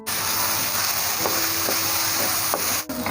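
Chopped vegetables, carrots and green chillies, fry in a pan with garlic and ginger for chicken veg spring rolls, giving a steady, close sizzle with a few sharp stirring clinks.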